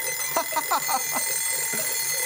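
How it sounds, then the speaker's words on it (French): Several alarm clocks ringing together in a cartoon scene, rapid bright trills and beeping bursts layered over a steady high electronic tone, moderately loud. "Vous savez ce que ce bruit me rappelle? Un réveil. Oui, un réveil."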